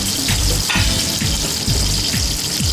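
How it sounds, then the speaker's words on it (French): Floured fish, mackerel, frying in coconut oil in a Javanese kitchen: a steady close sizzle with broad hiss throughout and several low bumping knocks spaced through it, with no talk. "On envoie dans l'huile de coconut ici, mais ça pourrait être n'importe quelle sorte d'huile"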